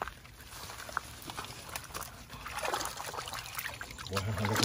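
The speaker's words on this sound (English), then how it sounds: "Rinse it off." Water running over freshly harvested radishes, heard as a close, continuous splashing trickle that grows louder toward the end, with faint people's voices in the background.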